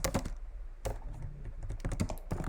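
Fingers tap quickly on a computer keyboard nearby, producing a run of crisp, uneven clacks with short pauses between bursts of keystrokes.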